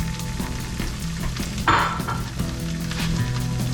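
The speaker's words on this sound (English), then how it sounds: "we hear that sizzling" Steady, loud sizzling of spicy Spam frying in a pan, with occasional scraping and stirring clatter, close up and continuous throughout.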